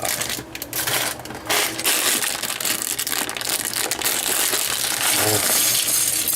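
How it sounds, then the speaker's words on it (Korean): A plastic bag from a LEGO Hero Factory 44018 Furno Jet Machine set is torn open and crinkled, producing dense, continuous, loud rustling and crackling close by for several seconds. "이 비닐 뜯는 소리는 언제나 들어도 기분이 좋습니다."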